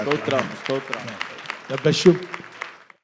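Sharp hand claps ring out in bursts while a preacher keeps speaking loudly over them, a church congregation applauding during a Telugu Christian sermon.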